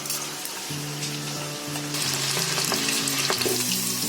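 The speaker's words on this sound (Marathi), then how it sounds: "तेल तापलंय. आता त्याच्यामध्ये कोलंबी फ्राय करून घेते." Prawns dropped into hot oil for frying, a close, steady crackling sizzle that swells louder about halfway through, with light bubbling pops and no voices.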